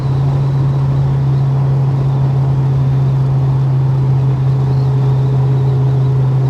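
An old Holden HK car cruising on its first run after restoration work, heard as a loud, steady, low engine drone from inside the cabin with constant road noise and no voices.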